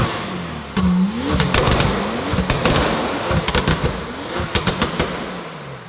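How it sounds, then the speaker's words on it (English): A Porsche 911 Turbo S engine revs up close: several sharp throttle blips rise and fall over a steady idle, loud and rhythmic. "So give it a few revs."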